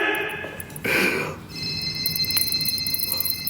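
A telephone rings in a deserted laboratory room with no electricity, a steady high electronic ringing tone that persists after a brief rustling thump, moderately close.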